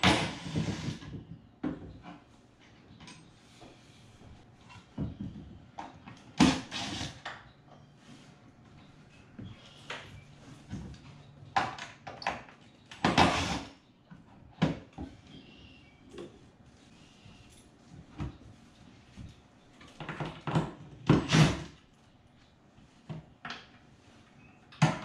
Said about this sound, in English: First thing I'm going to do is remove all the cabinet doors.